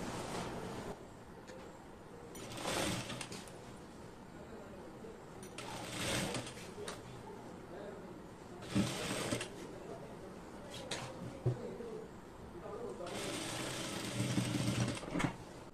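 Sewing machine stitching along the folded edge of a blouse sleeve, several separate whirring runs of a few seconds each with pauses between them, a quiet voice talking in the gaps.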